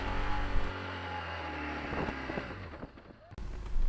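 A BMW R 1200 GS motorcycle labours through thick sand, its engine droning loud and close under heavy wind buffeting, with a sharp change in engine note near the end.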